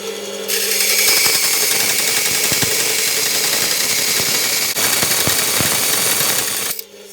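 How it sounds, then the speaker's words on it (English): A bandsaw cuts through a brass blank for a guitar nut, a loud steady high-pitched grinding whine held for several seconds before it stops. "I'm going to cut it on the bandsaw"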